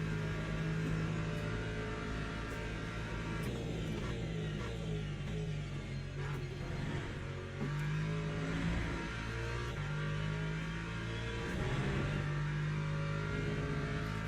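Race car engine in the video game Le Mans Ultimate at Imola in wet conditions, a steady loud drone from the cockpit with the revs rising and dipping through gear changes, continuous and with no talk.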